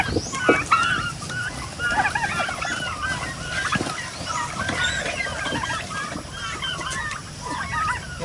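A flock of turkeys on a small farm also holding chickens and pigs, with dense overlapping gobbles and calls that continue without a break, close and fairly loud.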